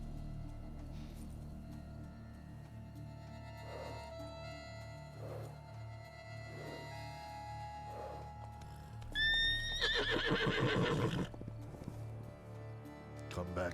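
A unicorn-like horse in The Witcher 3: Blood and Wine neighs in a long, shrill whinny after several soft hoof clip-clops, set against a low ambient game backdrop.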